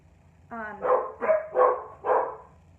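Several dogs bark in a home kitchen during skillet cooking, giving four loud, close barks in quick succession after a short whine.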